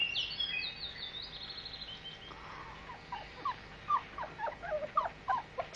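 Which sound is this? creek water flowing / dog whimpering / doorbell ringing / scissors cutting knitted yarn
dog whimpering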